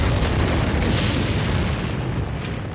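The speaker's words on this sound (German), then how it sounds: "Ein aus dem Ozean explodierender Berg, aus dem Feuer ausbricht." A volcanic eruption explodes with a loud, sustained boom that rolls on as a dense, roaring blast of noise across the whole clip, heard alone without talk.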